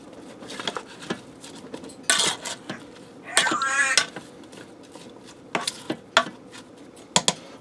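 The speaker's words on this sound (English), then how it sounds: "Now I'm going to get a spoon and I'm going to stir that stuff up in there." A metal spoon stirring broth and spices inside the pot of a Farberware electric pressure cooker, with scattered clinks and scrapes against the pot plus a brief rattling stretch, close by and fairly quiet.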